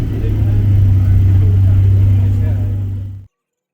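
Loud, close engine roar of a Mini race car accelerating on Anglesey's Trac Môn circuit at a Time Attack event, a steady deep drone that cuts off abruptly.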